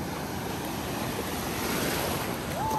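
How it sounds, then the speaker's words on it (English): Ocean waves at Daytona Beach churn in a steady, broad wash of noise with wind buffeting the microphone. "Damn, those waves are brutal."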